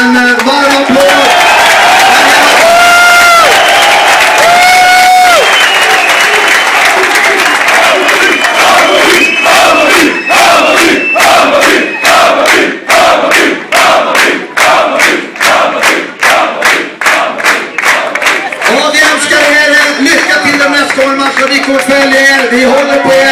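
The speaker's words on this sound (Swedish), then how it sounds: "Ge dem än en gång en varm applåd." A loud crowd of Hammarby football supporters cheers and shouts, then breaks into fast rhythmic clapping in unison before roaring again near the end.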